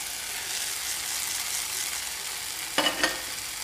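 Okra frying in hot spiced ghee gives a steady, close hiss, broken near the end by a couple of quick spoon knocks against the pan.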